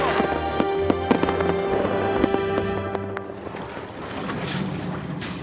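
Fireworks burst over a city in Greenland in a dense, loud series of sharp bangs and crackles, with the echoing booms overlapping for several seconds.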